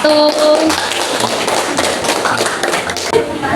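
A school class applauds a student group's presentation with a burst of brisk, close hand clapping from many people, while a voice talks briefly over it.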